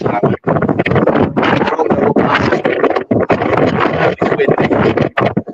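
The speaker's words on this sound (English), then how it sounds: "It is very windy." Strong wind sweeps through the stone passages of Caernarfon Castle, roaring and buffeting the microphone in loud, continuous gusts with brief lulls.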